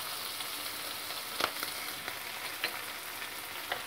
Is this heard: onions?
yes